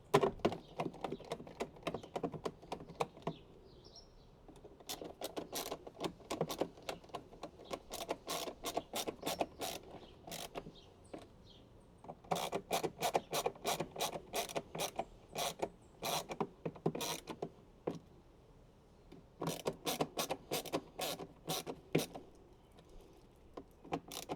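Ratchet driver turning T15 screws on a Harley-Davidson saddlebag latch cover, bursts of fast clicking in several runs separated by short pauses, close and clear with no speech.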